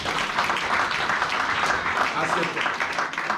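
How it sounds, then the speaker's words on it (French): Church congregation clapping and cheering in praise of a woman during a service, a steady dense wash of applause with voices mixed in throughout. "Acclamons le Seigneur pour cette femme."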